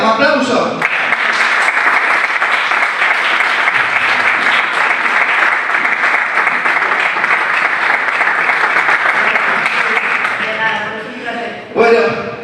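Sustained applause from a large audience at the closing ceremony of a film festival in Gijón, loud and steady for about ten seconds, then tapering off as a voice starts speaking near the end.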